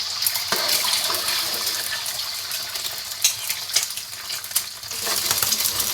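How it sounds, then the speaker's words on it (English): Beaten eggs hit hot, smoking oil in a wok, setting off a bright, crackling sizzle with sharp spitting pops that swells and fades over several seconds. "Drop in 2 large beaten eggs."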